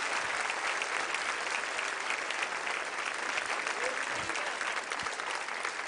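Sustained applause from a church congregation during a Christian worship service, a dense even wash of clapping lasting throughout with a brief voice or two mixed underneath.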